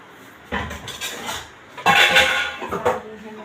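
Dishes and pots clatter and scrape as they are washed in a home kitchen, a run of close metallic knocks and clinks with a louder burst midway.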